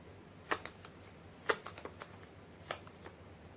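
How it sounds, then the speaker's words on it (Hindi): Tarot cards being shuffled by hand in a quiet room: three crisp riffling snaps about a second apart, with softer flicks and card rustles between them. "कर लेती हूँ कार्ड की शफलिंग।"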